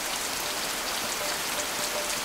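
Heavy rain from a March storm in Sri Lanka, a dense, steady roar of rain on surfaces that fills the whole clip loudly and evenly, with no voices.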